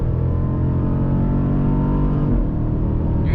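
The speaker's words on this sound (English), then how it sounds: "the get up and go in this car is awesome" Jeep Grand Cherokee SRT accelerating hard on a straightaway, heard from inside the cabin as a loud, steady, deep engine roar that climbs slowly in pitch across a few seconds.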